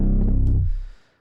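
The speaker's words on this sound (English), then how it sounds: "And the bass on its own sounds like this." Synth bass heard alone, one dense low note with a bright buzzy edge that sustains briefly and then fades out quickly, loud and close.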